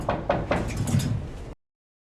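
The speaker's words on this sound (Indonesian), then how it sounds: "Mason mendengar pintu rumahnya ada yang mengetuk" Three quick knocks land on a house door, close and sharp, followed by a brief rustle before cutting to silence.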